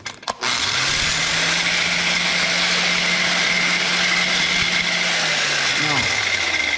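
A conventional bench grinder spins up and runs with a steady, loud motor whine and a faint hum, then begins to wind down near the end. There is a brief click at the start.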